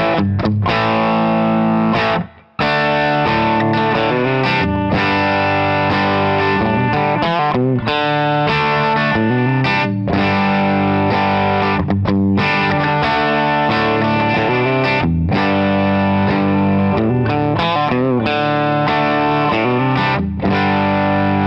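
An Amazon Les Paul copy electric guitar on its bridge pickup plays a loud, heavily distorted riff that carries on without a break apart from one brief pause, with thick sustained chords and a slight chorus-like shimmer.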